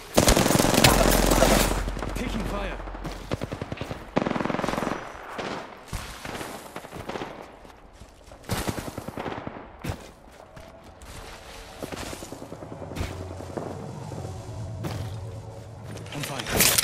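Firefight in the battle royale shooter Apex Legends, with loud automatic bursts and single shots trading back and forth, interspersed with footsteps, whooshes and in-game voice lines over a fluctuating battle ambience.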